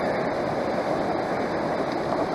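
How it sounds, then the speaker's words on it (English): Steady, dense rush of water pouring through a gold prospecting sluice box running on low power, a continuous close wash with no breaks and no voices. "And the sluice is running great."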